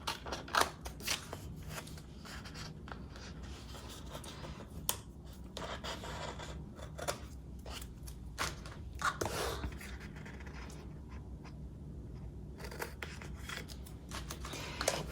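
Scissors snip through decorative tape in a journaling spread, a run of close, crisp cuts at an irregular pace, with paper rustling and handling between them.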